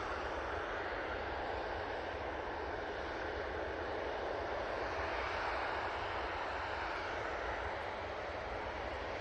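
A positioning flight from Glasgow comes in at Manchester Airport with a continuous, even jet roar that stays fairly distant and steady throughout, with no talk over it.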